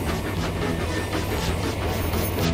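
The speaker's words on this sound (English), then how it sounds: "Slowly and carefully, Edward pulled Spam Can and the train free of the tunnel" A steam engine hauls a train out of a tunnel on icy, sanded rails, giving a steady, heavy rumble with faint rhythmic chuffing pulses throughout, with no voices.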